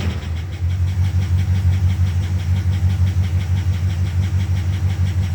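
Engine of a 1973 Rolls-Royce idling after a cold start on a cold night, a steady loud low rumble with a slightly rattly, even pulse throughout.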